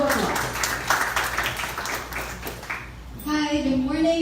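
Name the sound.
audience applause for speaker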